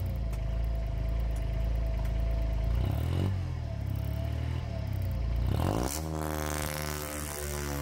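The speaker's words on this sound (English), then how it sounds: "ask a tiny diesel engine to go full tilt" A small supercharged Kubota diesel under Arduino rack control is pushed to full power, a loud continuous clattering roar that shifts pitch as it surges near the end.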